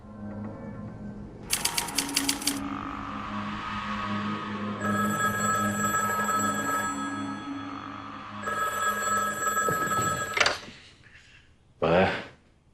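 A telephone rings in a period drama setting with a few bursts of bell-like ringing, then a sharp ring or clatter near the end, over background music and ambient room tone.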